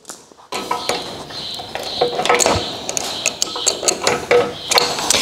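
Chain fed over the sprocket of an automated sawmill: repeated metallic clicks and ratcheting clatter, close and irregular, with rattling links running on for several seconds.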